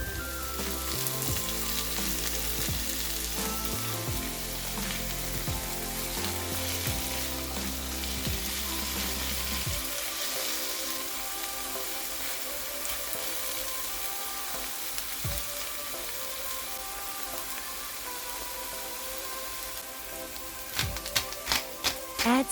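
Tomato sizzles and fries in a hot pan along with other vegetables, a steady crackling hiss that runs throughout with a few clatters of utensils toward the end.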